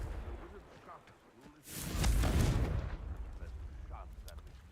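A Confringo explosive spell fires in the Hogwarts Legacy video game, a sudden loud burst blooming into a rumbling blast that slowly decays, with a voice faintly present nearby.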